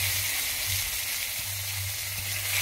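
Turmeric and ginger paste sautéing in a pan for a vegetarian Bengali taro curry, a steady, dense sizzle with a low hum underneath.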